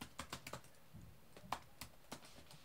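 Fingers tap on a computer keyboard while entering a PowerShell command, a quiet, irregular run of crisp key clicks with small pauses between bursts, close and faint with no talking.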